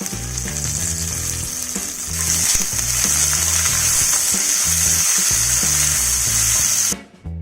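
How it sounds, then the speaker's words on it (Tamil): Onions sautéing in oil with garlic for a soya bean kulambu, giving a steady, loud sizzle with stirring, alone and without speech, cutting off sharply near the end. "இப்போ வெங்காயம் வந்துட்டு ஓரளவு நல்லா வதங்கிடுச்சு"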